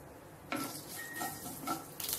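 Oil sizzles in a pan with crackling bursts as tempering spices (black gram, coriander seeds, cumin) hit it, a steady frying hiss punctuated by sharper pops and a few clinks.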